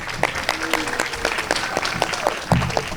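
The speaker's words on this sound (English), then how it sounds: "Let's give her a big round of applause." A crowd at a Juneteenth community celebration giving a round of applause, moderate scattered clapping heard from a distance over outdoor background noise.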